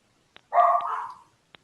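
Dogs at home greet someone at the door with a single short, clear bark, close and fairly loud, surrounded by a few faint clicks and quiet.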